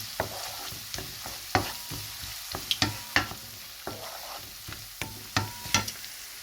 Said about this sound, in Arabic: نرجعها تاني كده على النار ونوطي عليها لغاية لما يندمجوا مع بعض الثوم المفروم مع البصلة اللي احنا قليناها